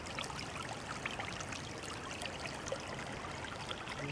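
A small forest stream trickling and burbling steadily as water is collected, an even close flow with no voices.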